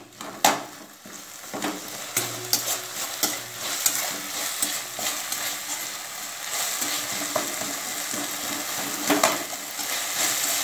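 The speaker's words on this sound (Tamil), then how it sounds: "தக்காளி நல்லா வதங்குது" Tomato and curry leaves sautéed in a pan for a cauliflower curry, a close, continuous sizzle broken by frequent scraping stirs and light utensil clatter.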